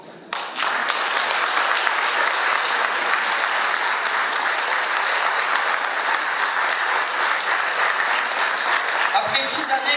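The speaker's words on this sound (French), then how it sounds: "j'aimerais qu'on les applaudisse." Loud, sustained applause from a crowd at a Belgian political celebration in Estaimpuis, rising sharply after a brief pause and holding as dense, continuous clapping until it thins out at the very end.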